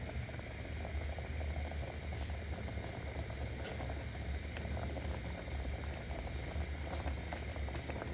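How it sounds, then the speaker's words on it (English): Water bubbles and rumbles at a steady boil in a pot for ugali, a continuous low churning with occasional soft pops, no voices. "This is our ugali water boiling, guys."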